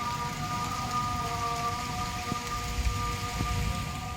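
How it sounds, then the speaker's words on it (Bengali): Heavy rain pouring down during a thunderstorm with lightning, a steady dense wash of falling water with a few faint low thumps underneath. "এদিকে দেখো বৃষ্টি শুরু হয়ে গেছিলো, একদম ঝেঁপে বৃষ্টি"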